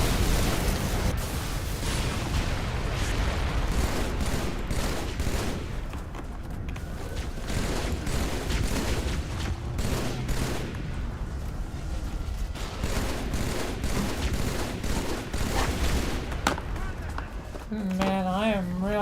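Rapid volleys of gunfire and blasts rattle through a role-play video game battle, dense and continuous for most of the stretch, with a brief synthetic tone near the end.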